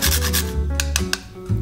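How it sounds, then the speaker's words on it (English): Whole nutmeg rasped across a grater in a kitchen, a series of quick scraping strokes, close and fairly loud, with no one talking. "Grate some nutmeg."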